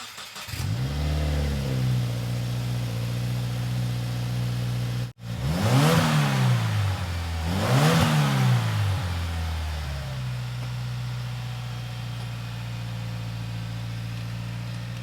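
A Subaru WRX fitted with a Nameless Performance blow-off valve pulls away, then revs up twice in quick succession, the engine pitch rising and falling on each pull before settling into a steady cruise, close and loud with no talking.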